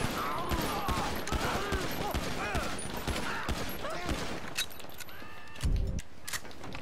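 Rapid gunfire in a Fortnite match crackles in bursts throughout, mixed with game sounds and a heavy thump near the end, while people talk over it.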